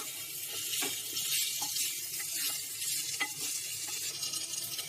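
Boiled mutton and chickpeas sautéing in a pan over medium-high heat, a steady close sizzle broken by several scraping stirs, with no talking.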